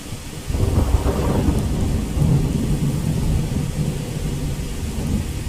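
Thunder rumbles low and heavy beneath a steady wash of rain pattering all around, a continuous thunderstorm soundscape rendered in immersive spatial audio with no voices.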